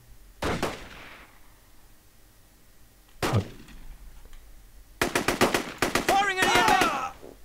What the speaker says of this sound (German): Mal gucken, wer schießt denn hier?